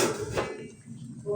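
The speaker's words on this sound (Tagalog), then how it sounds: "Tatakpan ulit natin." A lid goes onto a pot of picadillong tulingan, fish cooking on the stove, with a brief metallic clatter at the start and a second knock a moment later, close by, with light background noise and a voice faintly present.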